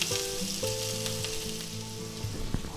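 Diced ham, onions and green peppers fry in hot oil in a pan with a steady, close, crackling sizzle. A faint tonal hum sits in the background.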